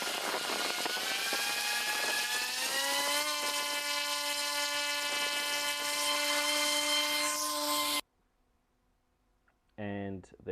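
Helicopter spinning up at a bushfire deployment staging area, a loud steady turbine whine with rising tonal rotor hum for about eight seconds, then cutting out before a brief burst of noise.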